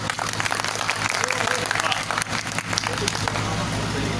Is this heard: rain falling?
no